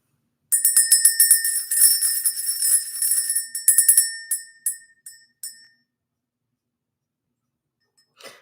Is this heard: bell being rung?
yes